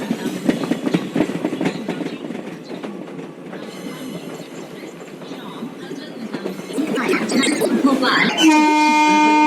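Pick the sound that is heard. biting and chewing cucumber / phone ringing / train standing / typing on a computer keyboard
train standing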